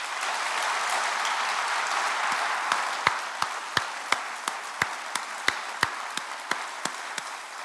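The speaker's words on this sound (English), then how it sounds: "Peter deserves an enormous round of applause" An audience at a celebration event in higher education gives a round of applause. A full wash of clapping thins out midway into a string of sharp, separate claps, loud and close, that continue sparsely to the end.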